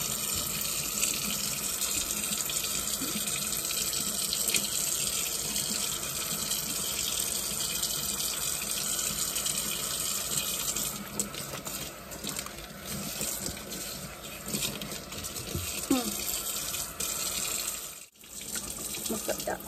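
Tap water running steadily into a sink during hair washing, a loud continuous rushing hiss that keeps going for about twenty seconds with a brief dropout near the end.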